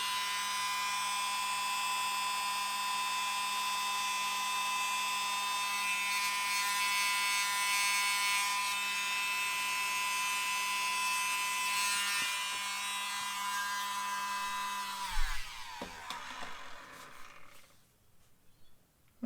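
A mini blower pushes green and gold Dutch pour paint across a canvas with a steady, high electric whine that holds for about fifteen seconds, then cuts off and winds down into quiet handling noises.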